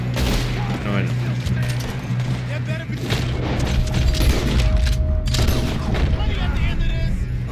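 Sustained gunfire in a Red Dead Redemption shootout, dense volleys of rifle and pistol shots with booming reports, going on almost without a break. Voices call out over the fighting.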